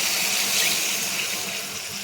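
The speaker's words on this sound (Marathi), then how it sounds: "आता ह्याच्यामध्ये मी 1 ग्लास पाणी टाकून घेते।" A glass of water poured into a cooking pan while making a fish curry, a steady loud gushing splash that runs continuously and eases slightly toward the end.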